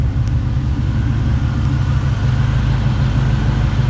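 A 1968 Chevrolet Camaro's engine runs after its first start of the year, a loud, close, steady idle with a low rhythmic throb and no voices.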